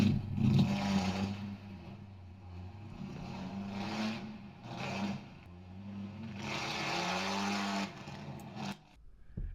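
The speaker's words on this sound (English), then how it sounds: "it sounded more like tires screeching" A synthetic screeching, buzzing whine rising and falling in several pulses, harsh and nasal, like tires squealing, fairly faint with no voices.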